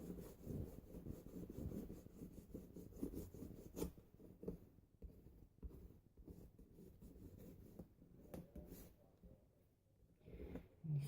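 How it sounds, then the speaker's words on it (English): Edges of a handmade journal being burnished, close, quiet rubbing and scraping strokes in irregular passes, with a few sharper taps and a softer lull before the rubbing picks up again. "And again, give that a nice burnish. along with the other side."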